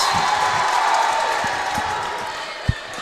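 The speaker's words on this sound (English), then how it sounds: "Lots of crowd noise tonight." Steady crowd murmur and chatter fill a high school volleyball gym, Lake Mills against Osage, with a few thumps of the ball and one sharp hit near the end, all under the continuous noise of the stands.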